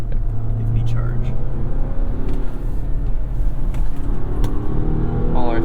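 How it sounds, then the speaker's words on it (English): A 2024 Mazda CX-90 accelerating, its synthetic engine sound piped into the cabin as a rising hum and rumble with gear changes, under a person talking inside the car. "it's not the worst fake engine noise out there"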